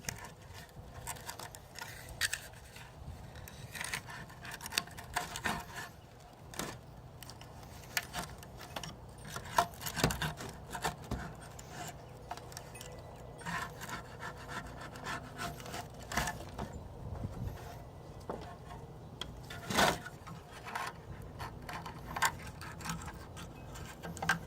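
Old gasket material is scraped off a 4L60E transmission pan with a hand tool, producing irregular dry scratching and sharp clicking strokes, close and fairly quiet with no one talking.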